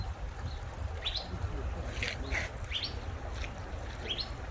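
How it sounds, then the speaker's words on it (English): Birds chirp in short, high bursts scattered through the clip over a low, steady rumble of wind or water at the Phoenix botanical gardens in the Sonoran Desert. "Hear the birds chirping."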